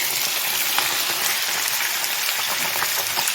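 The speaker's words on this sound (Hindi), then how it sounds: "अब हम इसमें डालेंगे अपना कीमा।" Minced meat (keema) fries in hot oil, a dense, loud, continuous sizzle and crackle close by, steady throughout with no talk.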